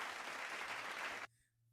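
A small audience gives a brief patter of polite, golf-style clapping that lasts just over a second and then stops abruptly, leaving near silence.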